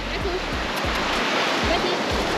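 A steady wash of surf fills the air, with soft low thumps of small, gentle sea waves breaking on the shore at regular intervals; a voice speaks over it.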